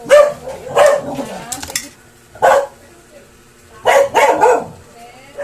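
A mixed-breed dog barks in loud, close bursts, with a few quick barks, then a pause, a single bark, and another cluster of barks near the end.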